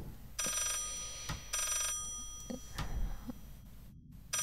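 A telephone in the horror game Layers of Fear rings in repeated bursts with short ticking sounds between them, moderately quiet and without speech.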